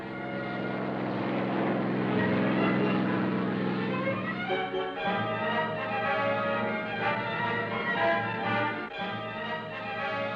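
Propeller planes drone overhead in a steady, throbbing hum with layered engine tones that shift as they pass, heard alone from start to finish.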